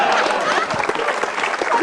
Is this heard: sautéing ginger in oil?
no